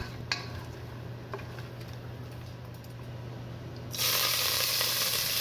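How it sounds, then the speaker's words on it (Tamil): Cashew nuts frying in a pan until golden for beetroot pulao, a quiet low simmer with a few faint clicks, then a bright, loud sizzle that swells up near the end. "முந்திரி பருப்பை சேர்த்து கொஞ்சம் பொன்னிறமாக வர வரைக்கும் வறுத்துக்கலாம்."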